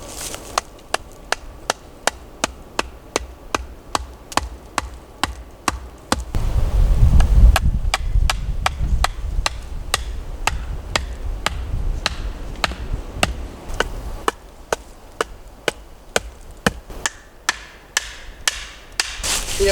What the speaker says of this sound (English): we'll just get to the hammering when it's done